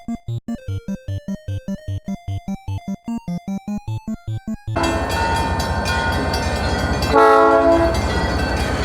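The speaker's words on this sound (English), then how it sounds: "It's the old-timey choo-choo train." An old-fashioned train passing near the American River Trail, first a rhythmic chugging pulse with a sustained horn, then a loud, close rush of wheels and rumbling cars, with squealing tones near the end.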